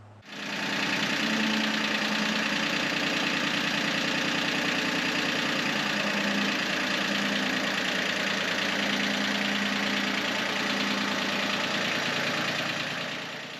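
A Yanmar tractor diesel engine, just restarted after its clogged fuel injectors were cleaned, idles with a steady knocking clatter, loud and close throughout after a brief start, no talk.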